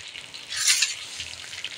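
Meat sizzles in a pan of fried spices, a continuous crackling hiss that swells briefly near the start and then settles, with faint stirring underneath and no voices.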